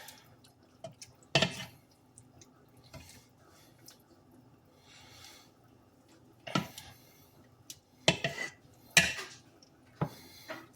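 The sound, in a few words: stirring chili in a pot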